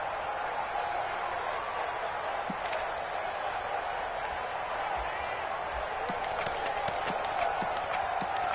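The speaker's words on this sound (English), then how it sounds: "the crowd getting into it as we come up on a big 3rd down" A stadium crowd in a PS4 football video game as a big third down approaches, with a steady, moderately loud roar of crowd noise and scattered faint claps and thuds throughout.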